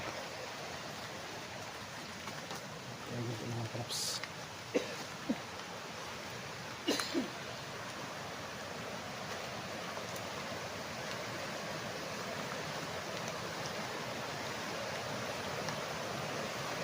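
A river runs muddy after rain along a farm lot boundary in Liliw, Laguna. Its continuous, even rush of flowing water fills the scene, with a few faint clicks and brief speech near the start.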